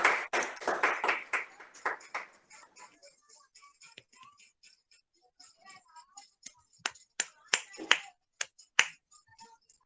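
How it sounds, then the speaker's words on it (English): A prayer meeting group claps, starting with a dense burst of rapid claps that thins into scattered, sharp individual claps and snaps, close and crisp. "Let's invite Brother Victor with a clap offering to God"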